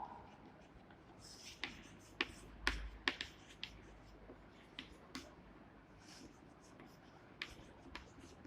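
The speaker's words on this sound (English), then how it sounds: "So now I will write elongation of a bar" Chalk or pen writing on a board during an engineering lecture on bar elongation, heard as faint, quiet scratches and sharp taps in irregular bursts with no talking.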